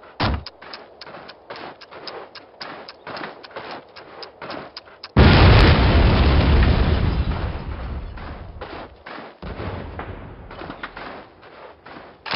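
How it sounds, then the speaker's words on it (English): A flak gun is blown up in the video game Call of Duty: rapid gunfire crackles for several seconds, then a loud, close explosion bursts and rumbles away slowly before the shooting resumes. "We need to blow up that flak gun."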